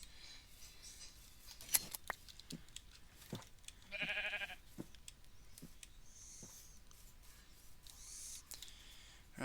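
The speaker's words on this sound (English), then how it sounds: "And there was a sheep over there." A sheep bleats once in modded Minecraft. The short, close bleat comes mid-clip among light clicking and shearing game sounds, and no one talks.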